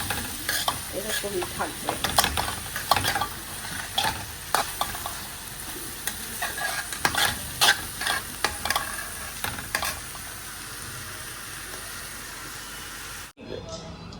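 Panch phoron spices frying in a home kitchen pan, a steady close sizzle with clattering stirring strokes throughout, while someone says a few words partway through.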